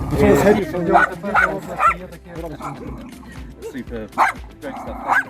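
Excited yips and short barks from a bomb-disposal dog come in bursts, close by, mixed with whimpering and busy background chatter.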